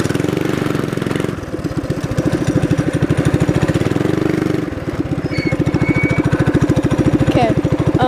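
A small minibike engine chugs close by with a rapid, even pulse throughout a first ride, its pitch dipping and rising as the throttle changes.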